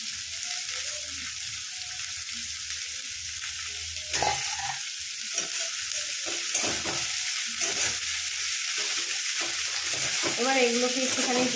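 Steady hissing sizzle of vegetables frying in a hot pan for dalia khichdi, with stirring scrapes and a voice speaking intermittently over it.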